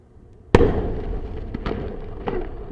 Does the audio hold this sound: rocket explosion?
yes